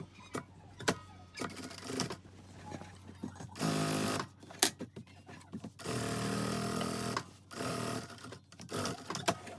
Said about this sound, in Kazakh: Екі бөлігін дәл солай тігіп аламыз, қыздар.